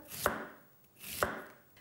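Two crisp knife strokes thinly slicing crunchy fennel on a board, evenly spaced about a second apart, close and fairly quiet.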